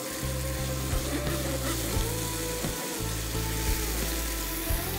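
Spice paste and chicken sizzle in a pan with a continuous bubbling fry. A steady low hum runs underneath, and a few faint stirring knocks break in now and then.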